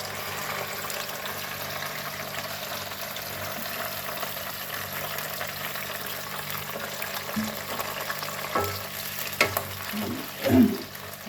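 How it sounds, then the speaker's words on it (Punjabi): Okra frying in mustard oil that has been heated until smoking, a steady soft sizzle with a few louder stirring scrapes and bursts near the end. "ਹੁਣ ਆਪਾਂ ਇਹਦੇ ਵਿੱਚ ਪਾ ਦਾਂਗੇ ਭਿੰਡੀਆਂ ਇਹਨਾਂ ਨੂੰ ਫਰਾਈ ਕਰ ਲਵਾਂਗੇ"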